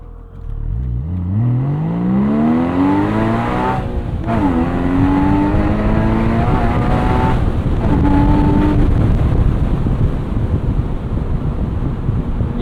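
A 2016 Porsche 981 Boxster Spyder engine pulls hard through the gears, loud and close, its rising tone climbing steadily with brief dips at each upshift and wind noise rushing underneath throughout.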